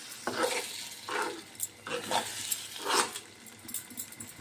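Beaten eggs are stirred in a hot pan for Telugu-style egg scramble (guddu poratu), giving repeated soft scraping strokes about every half second over a faint sizzle.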